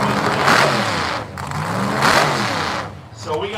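Nitrous-injected 640 engine in a '67 Chevy Nova drag car at a no-prep race, revving hard in loud rising and falling surges, close, while an announcer talks over it.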